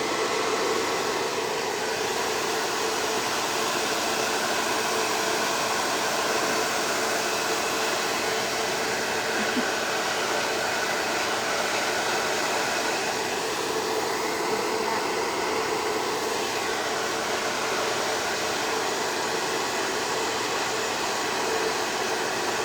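Steady, loud airflow from a hair dryer blowing onto paint runs without pause, a constant rushing whoosh with slight wavering in tone.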